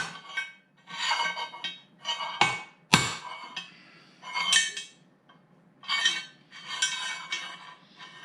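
A metal part being tapped into place during a Belsaw scale build, heard as repeated bursts of light metallic knocks and clinks at close range, with a couple of sharper, harder strikes in between.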